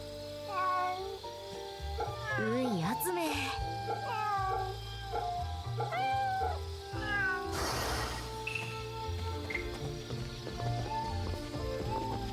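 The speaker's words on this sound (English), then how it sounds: "Oh, I see a kitty." A cat in the video game Fate/Samurai Remnant meows repeatedly in clear, drawn-out calls at a steady pace over a quiet musical and ambient backdrop.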